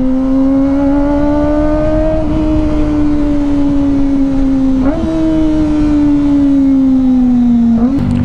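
Kawasaki ZX25R motorcycle engine revving in an enclosed spot, a steady loud high-pitched inline-four whine that rises and falls across several throttle blips, close and alone.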